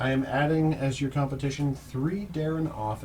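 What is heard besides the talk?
No distinct noise like a dog, phone or traffic.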